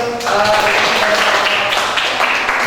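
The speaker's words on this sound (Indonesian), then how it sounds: "Kasih aplaus untuk hasil" A classroom audience applauds a student group's presentation in a chemistry lesson, with steady dense clapping that fills the room for a few seconds.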